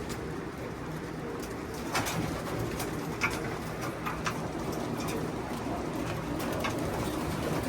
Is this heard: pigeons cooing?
yes